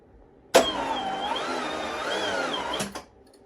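Twin-turbo Subaru engine cranking on a weak battery, a single sluggish starter whir lasting a couple of seconds with a labored, slightly wavering pitch, close and loud, then cutting off.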